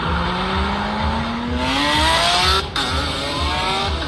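Loud, close Ferrari 812 V12 engine revving on a Zurich street, pitch climbing steadily through a gear, a brief break as it shifts, then pulling on again.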